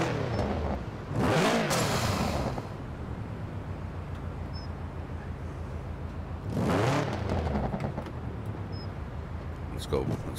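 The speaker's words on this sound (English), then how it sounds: "This turbocharger sounds so good on this car." Turbocharged Subaru car in Forza Horizon 4 revs up twice, engine whir rising and falling in two clear surges with quieter cruising between, under near-constant talk.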